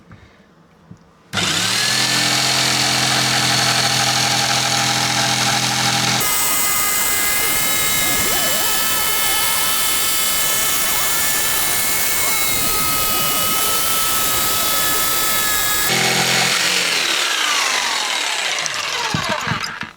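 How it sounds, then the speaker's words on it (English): A loud power saw whines up to full speed and cuts steadily for over ten seconds inside a motorhome with a harsh, grinding roar, then spins down. "Right, I'm gonna start sawing."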